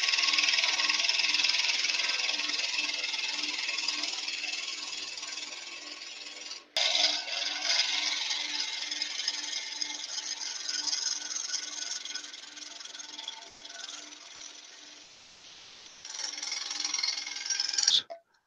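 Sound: skew chisel on its side widening a hole in wood on lathe

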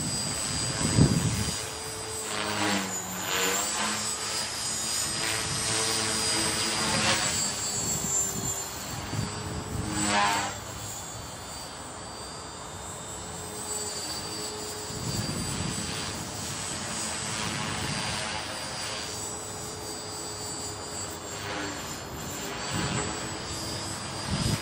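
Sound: Trex 450 PRO RC helicopter at full throttle

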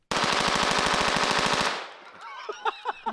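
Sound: machine gun firing in a video game

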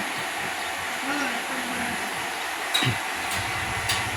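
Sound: tractor-mounted rice seed spreader engine running during test

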